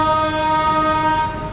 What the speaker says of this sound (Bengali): আমাদের লোকো পাইলট জোরে জোরে হর্ন বাজিয়ে জানান দিচ্ছেন যে আমাদের যাত্রা বিরতি শেষ